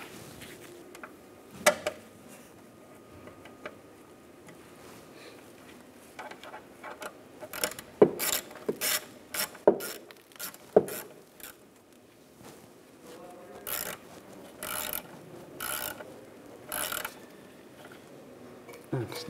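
A ratchet snugs down the bolts on the rear shock of a 2015-2019 Lincoln MKC, giving irregular bursts of sharp clicking strokes up close, with pauses between runs.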